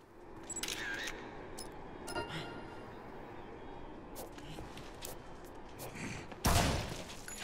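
A gunshot fires in the zombie video game Dead Rising, a sharp loud burst standing out late over a busy backdrop of game noise and scattered clicks.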